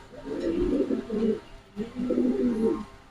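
Pigeons on a pigeon farm in Mirpur coo close by, two rounded rolling coos about a second and a half each with a short pause between, and no talking.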